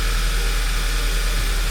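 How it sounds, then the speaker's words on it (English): A 2009 Volkswagen CC 2.0 TSI engine idles at about 1200 rpm after top-end repair of a failed cam chain tensioner and bent valves: a close, steady low hum with no change in pitch. "it's idling nice."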